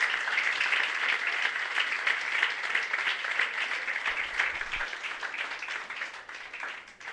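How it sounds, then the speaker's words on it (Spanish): A church congregation claps in steady, moderately distant applause during a morning service, the mass of hands holding evenly for several seconds before easing off. "Dale un fuerte aplauso a Dios en esta mañana."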